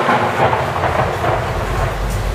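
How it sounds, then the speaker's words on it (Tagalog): Loud thunder rumbles continuously through a sudden darkening storm, a deep sustained roll with rain-like hiss, steady and close with no voices. "biglang dumilim ang kalangitan. May halong malakas na kulog."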